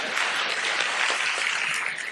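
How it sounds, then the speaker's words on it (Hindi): Audience clapping after a Hindi poem recital at a Rajasthani comedy-poetry event, a short, steady burst of crowd applause, moderately loud and continuous. "ताली बजाओ"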